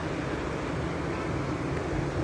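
Heavy, continuous rushing water fills the whole clip, a dense, steady roar with no pauses and no voices.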